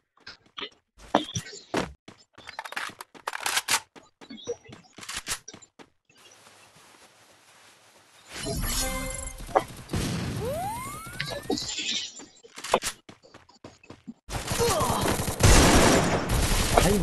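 Rapid bursts of gunfire from the video game Counter-Strike crack in sharp clusters, with heavy sustained volleys and impacts near the end, mixed with occasional talk.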